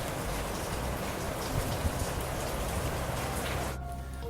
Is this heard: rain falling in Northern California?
yes